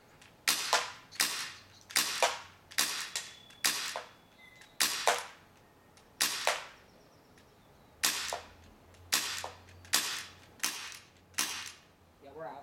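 An airsoft Magnum pistol fires at a target, about a dozen sharp cracking shots in a steady, evenly spaced rhythm with short pauses, loud and close, recorded on a camera's built-in mic.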